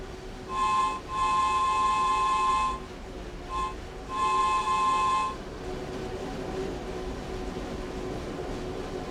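A Train Sim World 2 passenger train on a London commuter route, its horn sounding in two long tonal blasts with a short toot between them, over a steady rolling rumble that carries on after the horn stops.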